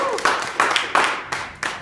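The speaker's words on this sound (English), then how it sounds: "Round of applause to Lizzie." A small audience at a cooking demonstration gives a brief round of applause, a few distinct bursts of clapping in uneven rhythm, close by and moderately loud.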